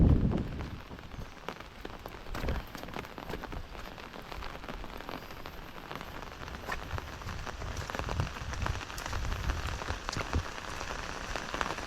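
Heavy monsoon rain pours steadily onto surfaces, a dense continuous hiss with scattered louder drops, no voices.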